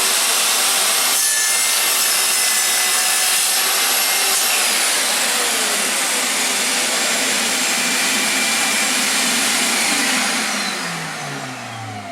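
A Harbor Freight 10-inch sliding compound miter saw cuts through wood with a loud, steady whine for about ten seconds, blade pitch dropping as it spins down at the end while a shop vac runs alongside.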